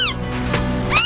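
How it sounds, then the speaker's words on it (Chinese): A small kitten by the seaside gives two close, clear meows, one at the start and a rising one at the end, with a short quiet gap between them. "小猫在叫了，过去看一下。"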